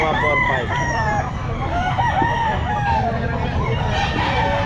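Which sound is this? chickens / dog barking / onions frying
chickens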